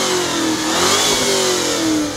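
A Chevrolet Corvette C5 with a 5.7-litre V8 of over 450 horsepower at a tuned-car show, its engine revving loud and close in a sustained rising and falling roar with no talk.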